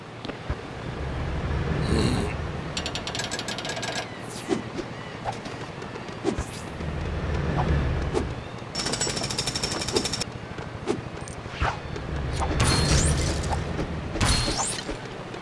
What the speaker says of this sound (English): You got a pneumatic drill from that construction place, right? Use that!